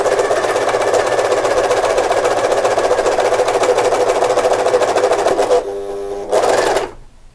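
A Jaguar A399 overlock serger runs at steady speed stitching thick knit fabric, a loud close mechanical whir that stops briefly, restarts for a short burst, then cuts off at the end.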